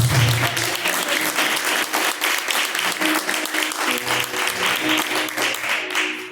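A church congregation applauds steadily, dense clapping throughout that fades at the very end.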